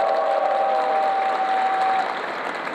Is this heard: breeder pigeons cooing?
no